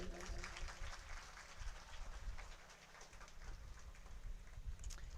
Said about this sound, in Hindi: एक बार बजाओ इसके लिए ताली